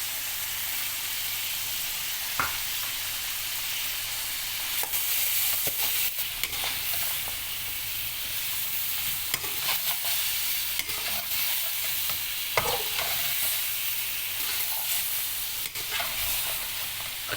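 Mutton stirred in a hot pan with tomato and black pepper, a continuous hissing sizzle broken by repeated scraping strokes of a spoon, close and steady with no talk.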